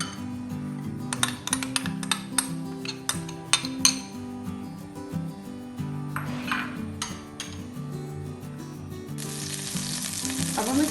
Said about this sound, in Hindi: ऑयल गर्म हो चुका है। अब हम इसमें डालेंगे 1 टेबलस्पून अदरक लहसुन का पेस्ट,